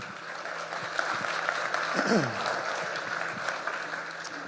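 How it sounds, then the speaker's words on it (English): An audience at a startup pitch competition applauds steadily throughout, a dense, continuous patter of many hands with a brief voice rising through the middle. "And just one more round of applause because UTRGV's ECC team is pivotal in making this happen"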